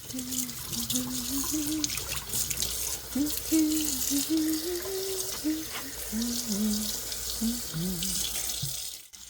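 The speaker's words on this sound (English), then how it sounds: "we are just going to enjoy the sounds and sights of rinsing out a tie-dye" Water runs from a faucet into a sink with a steady splashing rush while fabric is swished and squeezed under the stream, and a voice hums faintly.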